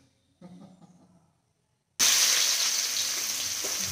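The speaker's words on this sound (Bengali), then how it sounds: "পেঁয়াজটা মোটামুটি ভাজা হয়ে গেছে" Onions fry in oil in a pan: after a quiet stretch with faint handling noises, a loud, close, bright sizzle bursts in abruptly and holds steady to the end.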